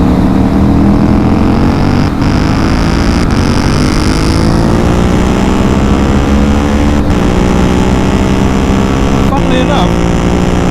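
A loud KTM Duke 790 motorcycle engine roars steadily and continuously up close, its harsh exhaust note, with baffle removed and decat, dominating throughout with slight shifts in pitch.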